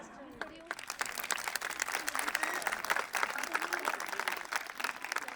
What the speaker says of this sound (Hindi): I request parents to please give them a big hand